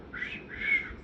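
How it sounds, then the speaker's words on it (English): A pet talking parrot gives two short, loud squawks in quick succession, with nothing else around them. "if anyone wants to have a bird, you've got to realise they can get noisy."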